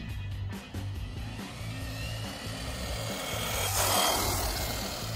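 A WLtoys 104001 1/10 scale 4WD RC car with a 550 brushed motor on a 2S LiPo runs steadily, its motor whine holding a fairly even level and rising slightly near the end, with no talking.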